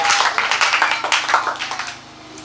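A church congregation claps together in praise, a fast, loud, rhythmic run of hand claps that fades slightly toward the end.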